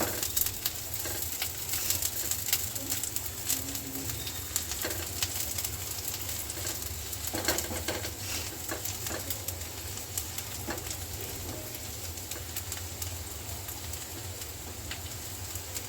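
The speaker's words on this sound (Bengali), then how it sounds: "রসুনটা ভাজা হয়ে গিয়েছে" Minced garlic frying in oil in a pan, a steady close sizzle with faint crackles and occasional stirring clicks, continuous throughout.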